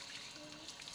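Water runs from a garden hose onto potted plants, a soft continuous splashing hiss with no voices over it.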